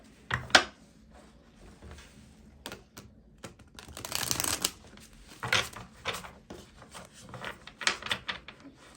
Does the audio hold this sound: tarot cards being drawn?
yes